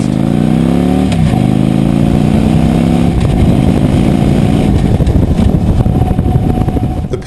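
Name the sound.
Victory Hammer motorcycle accelerating hard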